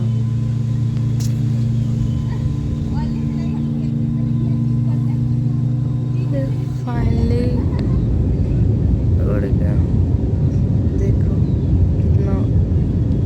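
A passenger airplane takes off and climbs, its steady low engine hum giving way to a louder, rough, broadband roar that continues throughout. A voice speaks faintly over the cabin noise.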